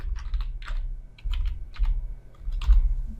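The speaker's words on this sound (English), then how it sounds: "So I'm just going to type mine" A password typed on a computer keyboard while setting up PostgreSQL, with short bursts of light key clicks in an uneven rhythm, close and clear, no voices.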